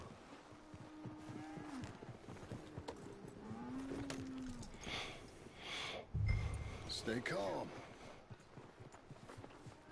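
Horse hooves clip-clopping at a slow walk in Red Dead Redemption 2, soft irregular steps under several voices talking, with wind noise and a louder low thump partway through.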